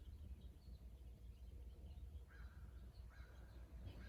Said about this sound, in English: Crows in the background.